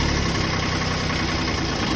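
A steady, loud engine idle just after a cold start, running somewhat unevenly, with a continuous low rumble and vibration throughout and no talk.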